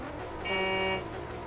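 A single car horn honks in one steady blast of about half a second during an outdoor driving contest, loud and close against light background noise.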